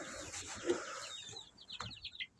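Chickens in a coop on a snowy, windy day let out soft clucks and a short rising call, close by but fairly quiet, over faint rustling.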